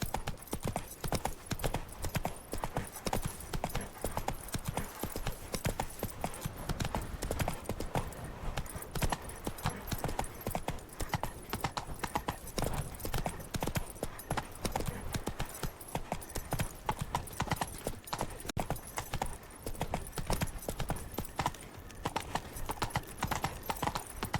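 Horse hooves gallop in The Witcher 3, a steady, fast clip-clop rhythm that runs the whole time over a dense game soundscape, with a faint whinny possible.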